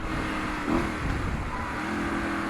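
A Honda Varadero 125 motorcycle rides steadily with a continuous engine drone and broad wind rush, the pitch wavering slightly around mid-clip, with no voices.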